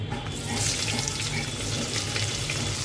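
Chopped onion hits hot oil already fried with curry leaves and bay leaf for a restaurant-style chicken handi, giving a steady, dense sizzle and hiss throughout, close up and with no voices.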